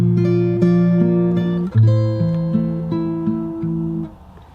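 Fingerstyle guitar plays two bars of a song, plucked bass notes under a picked melody in a gentle, even rhythm, close and clear, ending with a fading last chord.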